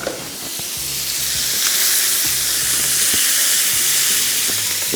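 Lemon pepper chicken fries in a pan, a loud, dense sizzle that swells in the first second and then holds steady, with faint low rumbling underneath and no speech.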